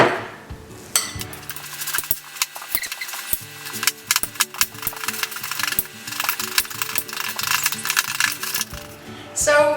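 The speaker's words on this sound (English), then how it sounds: "just use a fork or a whisk or whatever you want, and just sort of smush them down" Bananas being mashed in a bowl with a fork, giving a steady run of sharp clinks and taps of metal on the bowl, close and fairly loud, with a brief pause near the start.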